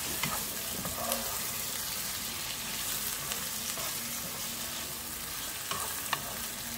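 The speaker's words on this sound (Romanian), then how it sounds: "Și acum o dinstuim foarte, foarte bine ficatul cu ceapa." Chicken livers with peppers and onion fry in a pan, a steady close sizzle with scattered stirring clicks and scrapes running throughout, no voices.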